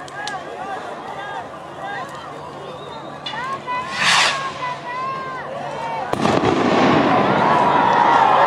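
Shots fired by police from bushes during street clashes between protesters and security forces in Quito, heard as sharp cracks and whistling bursts over a noisy outdoor crowd, growing louder toward the end.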